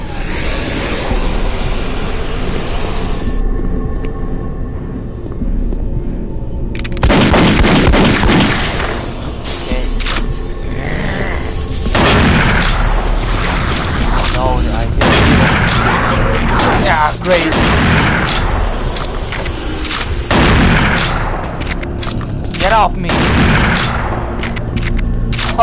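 Repeated booming cannon blasts from the video game Doom 3: Resurrection of Evil, loud and close, firing in irregular bursts with rumbling echoes between shots.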